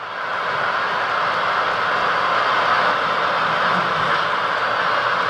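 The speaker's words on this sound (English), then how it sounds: "He's running the train." A small N scale model train runs steadily on a layout at a convention hall, a continuous even rolling hum with a slight mechanical whine, fairly loud and close, with no talk over it.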